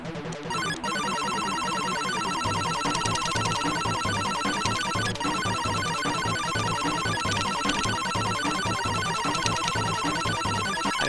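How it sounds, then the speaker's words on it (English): A phone rings with an incoming call, its bright electronic ringtone melody repeating steadily and loudly for about eleven seconds, with no talking over it. "Got a phone call, man."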